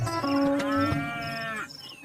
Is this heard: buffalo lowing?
yes